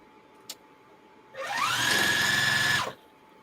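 A sewing machine stitches the sides of a zippered carry-all bag together, revving up quickly into a steady whirring run of about a second and a half before stopping abruptly, close and clear.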